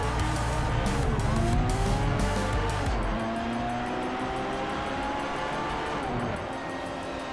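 A race car in Project Cars 3 roars at high revs with a hissing turbo whine, then lifts off. A skidding, sweeping engine tone follows and carries on steadily for several seconds, loud and close with no talk.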